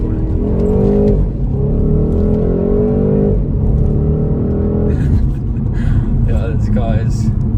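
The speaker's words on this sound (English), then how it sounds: "You hear the engine note quite a lot" A BMW 128ti's engine pulls hard under acceleration from inside the cabin, a loud sustained drone with rising pitch, a brief dip as it shifts gear, then climbing again.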